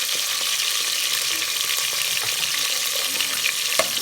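Sliced onions frying in oil in a pan, browning deeply for a chicken sajji dish: a steady, dense close sizzle with crackling spits throughout and a brief stir near the end, no talking.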